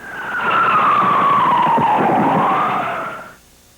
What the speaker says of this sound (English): you can hear the sound of police sirens arriving on the scene.